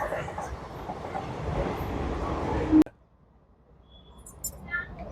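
A train arriving at a station near a Shiva temple rumbles and roars steadily, then the noise cuts off abruptly, leaving near silence with a few faint distant sounds.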